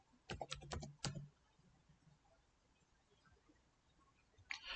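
A short burst of computer keyboard typing near the start, then quiet, with another brief flurry of keystrokes at the end; close and moderately loud against a faint background.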